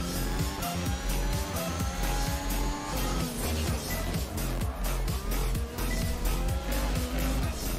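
A Formula 1 car in F1 2021 at Azerbaijan free practice spins out, its engine droning with a steady pulsing note while the tires squeal, close and continuous for several seconds.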